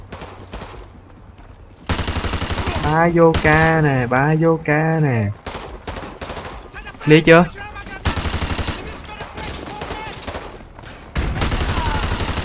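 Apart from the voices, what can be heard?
machine gun fire in video game Call of Duty: Modern Warfare 2 Remastered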